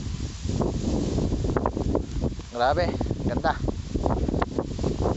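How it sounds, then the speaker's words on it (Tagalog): Heavy wind rumbles and buffets the microphone over a ripening rice field throughout while a person speaks briefly over it. "napakalakas ng hangin"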